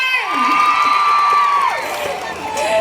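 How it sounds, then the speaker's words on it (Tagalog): A concert crowd at an outdoor show in Malangas, Zamboanga Sibugay cheers, shouts and whoops together, loud and sustained, with a voice carrying above the noise. "gusto ko sanang makarinig ng isang malakas na palakpakan ng sigawan dyan!"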